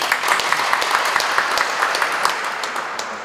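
Audience applause at a startup park vision declaration and agreement-signing ceremony, a steady full round of clapping from a seated crowd, continuous and moderately loud before easing slightly near the end.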